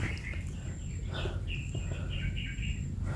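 A bird calls nearby in a series of short, bright chirps and whistles, repeating through a low, steady background hum.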